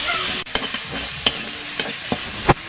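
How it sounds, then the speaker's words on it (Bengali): Cumin, green chilli and mustard paste masala sizzling and frying in a pan for prawn malai curry, with steady crackling and several sharp stirring scrapes, fairly close and loud. "মশলাটা ভালো করে কষিয়ে নেব"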